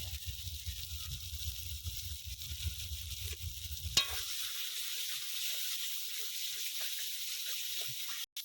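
A spice paste with ground poppy seed sizzles in hot oil in a pan for a potol malai curry, a continuous hissing fry with stirring and scraping, fairly quiet, with a sharp clatter midway.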